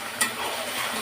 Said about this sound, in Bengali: এখন শুধু নাড়বো।